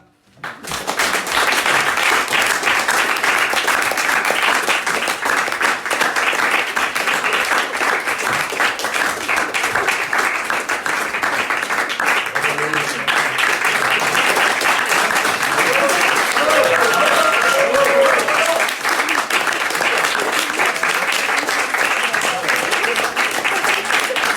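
Sustained applause from a large concert audience, steady and loud throughout, with a dense wash of clapping hands filling the whole stretch.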